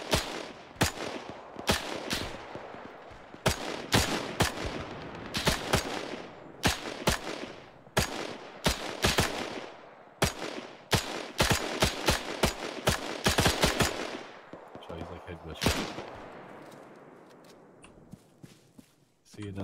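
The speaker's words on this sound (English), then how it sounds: "they're shooting their machine guns like we aren't still alive up here" Rapid bursts of machine gun fire ring out in a World War II Peleliu beach landing game battle, loud, near and repeated in short volleys, with scattered single shots and a longer burst near the end.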